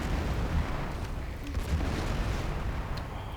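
Artillery bombard fire in the strategy game Civilization 5, a dense continuous rumble of booming low-end blasts running steadily throughout at moderate level with no clear separate shots.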